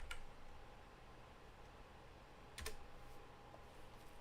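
Quiet typing on a computer keyboard during a Times Jumbo crossword solve, a soft steady patter of keystrokes with a brief louder cluster of clicks near the end, no voices.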